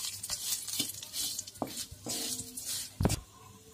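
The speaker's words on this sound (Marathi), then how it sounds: "इथे मी थोडेसे शेवया घेतले, ते आपण टाकणार आहोत. ते आपण अशा व्यवस्थित आपल्याला भाजून घ्यायचे." Vermicelli (sevai) is roasted in a pan with dry fruits while a spoon stirs and scrapes. Soft scraping and a low sizzle are broken by a few sharp metallic clinks of the spoon against the pan.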